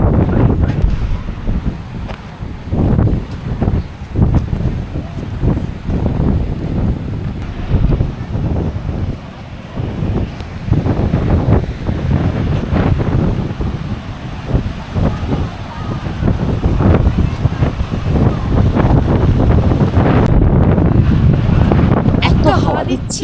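Strong wind buffets the microphone on the beach at Digha, a constant roaring rush with gusty swells throughout, while people talk nearby.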